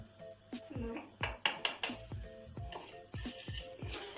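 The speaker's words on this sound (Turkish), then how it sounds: "Biraz karıştıralım mısırı." Corn kernels are stirred in an oiled pan with salt, a utensil scraping and clinking against the metal in a series of uneven strokes, close by, with faint background speech.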